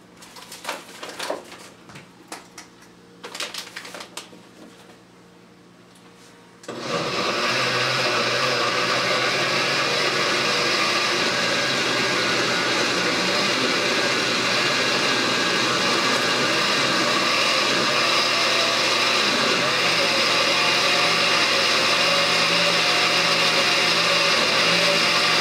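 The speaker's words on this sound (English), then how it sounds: "I'm going to go ahead and blend it" An inexpensive, non-premium kitchen blender blends a green smoothie. A few quiet clinks and handling sounds come first, then the motor kicks on into a loud, steady, continuous whir that lasts the remaining twenty seconds.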